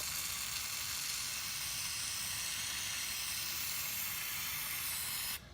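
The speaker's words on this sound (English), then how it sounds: "I'm just gonna take some brake cleaner" A loud, steady hiss of brake cleaner aerosol sprays continuously for about five seconds on a Nissan 350Z before cutting off abruptly.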